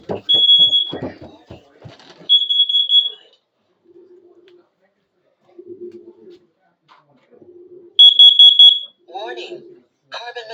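A home smoke alarm under test gives short piercing beeps in bursts near the start and again later, with a person talking between them and quieter low tones in the gaps.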